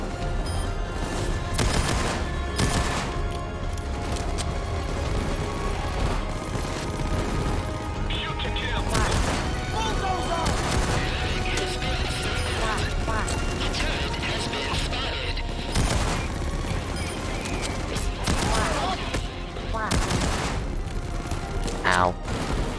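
Video game gunfire in Payday 2 crackles in repeated bursts of shots and impacts across a busy, continuous game soundscape, with a person speaking intermittently over the action.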